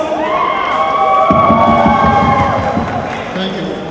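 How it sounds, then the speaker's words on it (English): An audience at a film promotion event for Ragini MMS 2 claps and cheers loudly, with a crowd roar and scattered shouts under tonal background music and a sustained siren-like tone. "Can we please have a big round of applause?"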